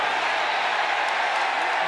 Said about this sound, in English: And a mock cheer goes up from those clad in blue.